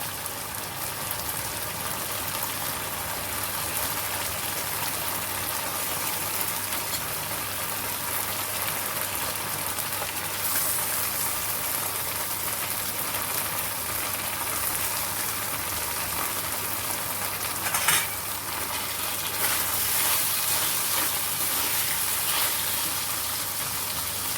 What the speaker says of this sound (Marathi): आता याच्यामध्ये आपल्या शिजलेल्या नूडल्स घालूया